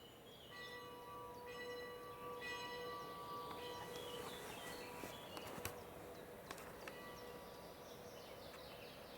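A church bell rings repeatedly at France's oldest cemetery, several distinct metallic strikes with long ringing tones, heard faint and distant over quiet outdoor ambience.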